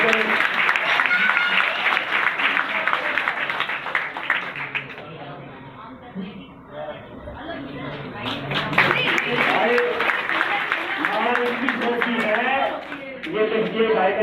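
Loud, dense applause from an audience welcoming a guest at a public gathering in Bahadurgarh. It fills the clip, dips briefly in the middle and then swells again.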